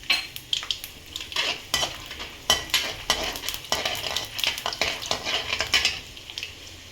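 Chana dal tossed into hot oil tempering for akki usali, a metal spoon scraping and clinking against the pan in quick irregular strokes over a faint sizzle, close and with no voices.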